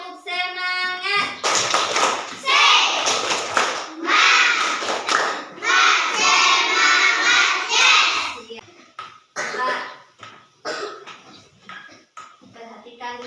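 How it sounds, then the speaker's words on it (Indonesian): A classroom of young children doing a rhythmic spirit clap, bursts of patterned group clapping mixed with chanting voices, close and lively, with pauses between clap sequences. "Coba semuanya dulu tepuk semangat."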